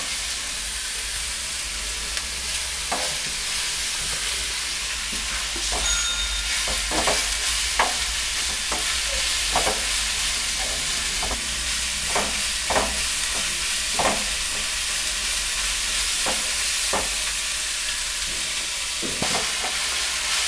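Onions and curry leaves frying in a pan for onion chutney, a constant sizzle broken by repeated scraping strokes of stirring throughout.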